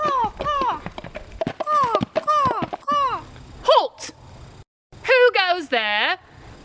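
Coconut halves knocked together to mimic a horse's hooves, a rhythmic clip-clop pattern under a sung fanfare, with a voice briefly calling out; loud and close, stage comedy setting.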